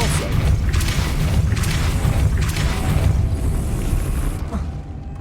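A Depulso spell is cast in the Hogwarts Legacy video game, setting off a deep, loud rumbling thud with creaking, mechanical movement that rolls on for several seconds before fading.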